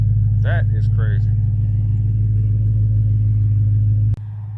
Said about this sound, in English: I know my car's loud, so I came across the street.